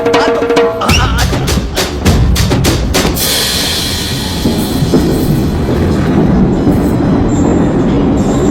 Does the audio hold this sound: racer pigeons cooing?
no